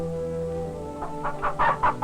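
A chicken clucks in a quick run of short, soft calls that rise over a steady low musical drone, growing slightly louder toward the end.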